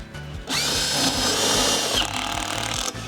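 A power drill drives a screw through a rubber weatherguard, whirring in one loud, close burst of about two seconds with a rising whine that cuts off, set over quiet low knocking in the background.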